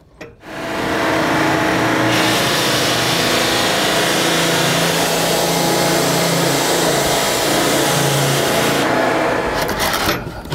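A floor belt sander fitted with a brand-new 50-grit Bona Blue abrasive belt runs steadily and loudly for about ten seconds. It makes a close, continuous motor drone with a gritty grinding edge, and no one speaks.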